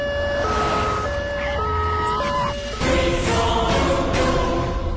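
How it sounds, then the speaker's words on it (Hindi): An ambulance siren wails loud and close in a rising and falling two-tone pattern, with broadband street noise swelling as the vehicle arrives. "एम्बुलेंस आ गई।"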